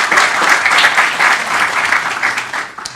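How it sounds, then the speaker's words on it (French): A full room of keynote attendees at Jug Summer Camp 2017 applauds the organisers, a loud dense burst of clapping that holds steady and then thins out toward the end. "Je pense qu'ils méritent encore un autre petit round d'applaudissements."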